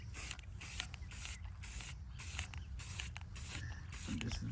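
Spray paint hisses from an aerosol can in short, repeated bursts as tan camouflage gear such as a plate carrier is lightly coated from a distance; the sound is fairly faint and broken by brief pauses.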